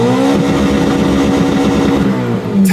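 Car engine revving hard through a side-pipe exhaust, close and loud with a steady, throaty harmonic drone and a rapid pulsing burble, held for a few seconds with no talk over it.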